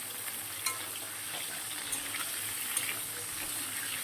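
Cauliflower frying in a pan, a steady soft sizzle of hot oil with occasional small pops and stirring clinks, close and moderately quiet.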